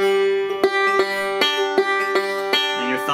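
Banjo picking a generic forward roll in G, thumb-index-middle pattern, with bright plucked notes repeating in an even, steady rhythm over a ringing drone, close and clear with no voice.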